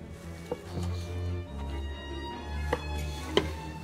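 A few sharp knife chops strike a board at irregular intervals as New York strip steak is cut, over a low humming background.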